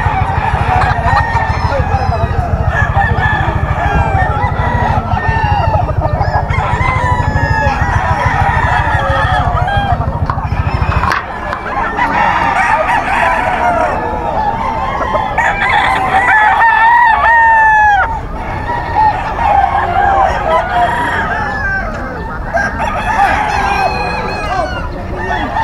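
Sweater gamefowl roosters at a game farm crow repeatedly and overlap one another, loud and close, over a constant low hum, with clucking and a few honk-like calls scattered between the crows.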